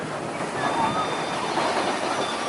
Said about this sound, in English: as the train comes down the hill and loops around back through the mountain